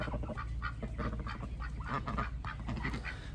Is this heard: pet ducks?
yes